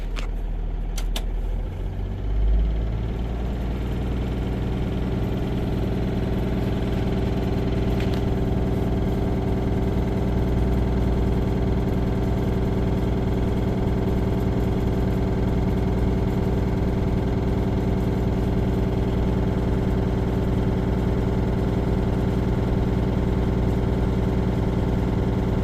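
A 2024 Freightliner S2C truck's diesel engine cranks and catches, then settles into a steady, close idle with a constant low rumble and faint vibration for the rest of the span.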